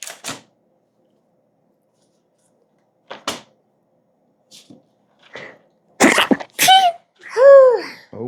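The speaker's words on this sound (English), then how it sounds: "tiny sneeze and not a grandpa sneeze." After a few quiet clicks and rustles, a small, quick sneeze bursts out, followed by someone talking.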